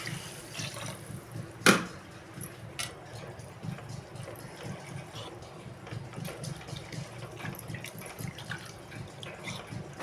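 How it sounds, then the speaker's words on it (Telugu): Water poured into a cooking pan for a tomato curry, a quiet, steady trickling and splashing with one sharp clink near the start, heard alone without talk. "ఇప్పుడైతే వాటర్ అయితే వేసుకుంటానండి."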